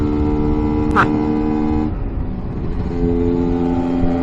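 A Lambretta S1 scooter's small engine revs up while riding along a riverside road, a steady close buzzing drone that climbs slightly in pitch, with wind noise and someone talking over it.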